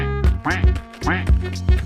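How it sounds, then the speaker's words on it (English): A duck quacks about four times in a quick, evenly spaced series, loud and close, in an animal-guessing escape room game. "quack, quack, quack"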